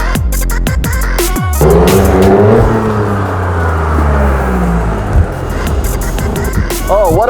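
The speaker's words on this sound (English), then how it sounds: "we are waiting for a very special car, the Yaris GR" A Toyota Yaris GR engine drones and whirs nearby, pitch sweeping up and down as it revs, with sharp clicks and knocks at the start and near the end, and a voice speaking briefly over it.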